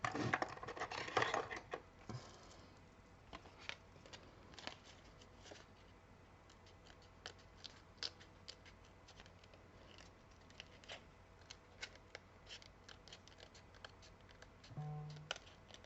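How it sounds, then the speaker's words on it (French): Precision scissors snip paper for a mini album craft, a quiet series of small, irregular close cuts with faint rustling between them. "maintenant j'ai un ciseau de précision"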